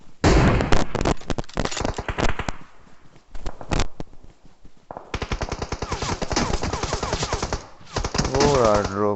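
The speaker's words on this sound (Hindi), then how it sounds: "एकदम उस्ताद ने गोलियां चला दी हैं।" Rapid automatic gunfire from a battle royale video game, sustained bursts of sprayed shots crackling close and loud, with brief pauses between volleys and gamers talking over it.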